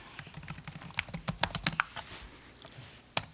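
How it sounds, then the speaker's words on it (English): Keystrokes on a computer keyboard, a quick irregular run of close, crisp clicks with a few sharper louder taps and brief pauses, with no voices present. "And I'm just typing and then hitting off to the side with my mouse."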